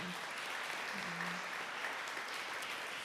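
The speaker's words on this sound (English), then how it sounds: "If he's not, let us give him a round of applause." Round of applause for Chef Kareem, a TCC Culinary Arts graduate, at a college celebration event; steady, fairly faint clapping from a crowd, sustained evenly throughout.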